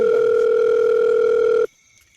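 A steady telephone dial tone sounds loud and unbroken for about a second and a half, then cuts off abruptly into near silence.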